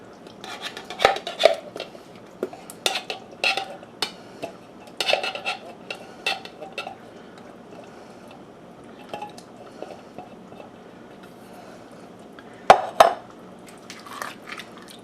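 Canned pinto beans with jalapenos and bacon scraped from the can into a chili pot, with scattered metallic clinks, spoon knocks and wet plops in short bursts, close and fairly loud.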